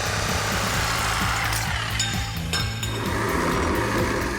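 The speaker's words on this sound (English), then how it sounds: "On ours, we're going to cut the header flange off to move it forward about 6 or 8 inches." A cutting tool cuts the header flange off a Fox Body Mustang exhaust header, a loud continuous grinding rasp with metallic clinks and a rhythmic hammering pulse, close up and with no talk.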